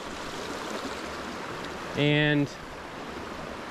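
Beside a brook trout creek in Bradford County, Pennsylvania, water flows in a steady, even wash. A voice cuts in briefly.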